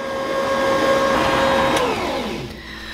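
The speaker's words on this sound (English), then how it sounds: "we're gonna blend that up and we'll have cookie dough" An electric mixer blending spiced molasses cookie dough, a loud, close motor whine with a steady tone that falls in pitch as the motor slows and winds down near the end.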